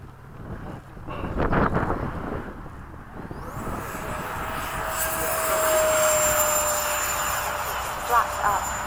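A Freewing 80mm MiG-21 RC jet with custom LED afterburner takes off at a flying field, its electric ducted fan rising from a low rumble to a loud, steady whine with a climbing tone, mixed with wind buffeting.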